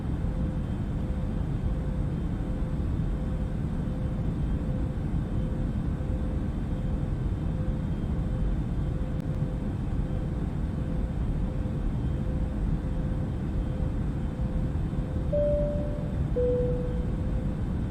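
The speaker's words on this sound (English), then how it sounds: "The plane is not going fast enough." Steady, loud droning airplane engine sound effect with a constant hum and a faint sustained tone, unchanging and continuous throughout with no talk.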